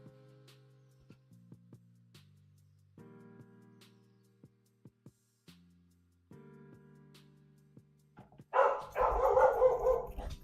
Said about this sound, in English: Dog's crazy in here.